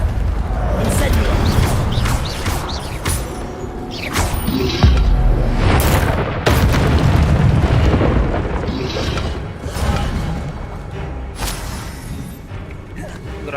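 Fire spell explosions in the video game Hogwarts Legacy: dense, continuous booming blasts and crackling bursts with sharp impacts throughout, loud and close, with a voice talking over them at times.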